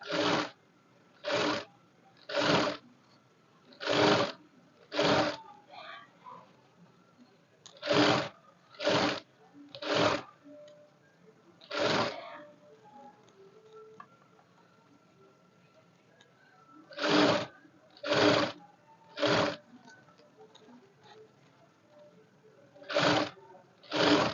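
Sewing machine stitching a blouse with a crash-fabric piece, heard as repeated short bursts of mechanical running, each about a second, close and moderately loud with quiet gaps between.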